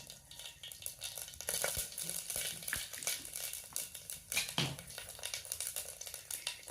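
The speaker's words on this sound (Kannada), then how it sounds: "ಎಣ್ಣೆ ಕಾದಾದ ನಂತರ ಅದಕ್ಕೂ ಆಸ್ ಯೂಶ್ವಲ್ ನಿಮಗೆ ಸಾಸಿವೆ ಜೀರಿಗೆ ಆಗಬೇಕು" Mustard seeds and cumin sizzle and crackle in hot oil in a kadai, a steady frying hiss with scattered pops and faint utensil clinks throughout, no voices.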